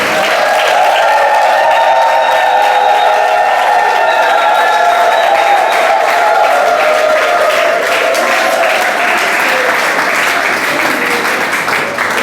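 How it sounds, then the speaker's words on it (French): A loud, sustained burst of applause from a large crowd at a wedding, with cheering and whistles carrying through steadily. "je vais demander à tout le monde de pouvoir les acclamer et les applaudir et crier très fort"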